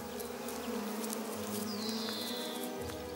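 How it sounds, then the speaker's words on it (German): Bees buzzing in a steady, close insect drone, joined by a faint higher whine partway through, with no talk over it. "Bienen gelten als besonders klug."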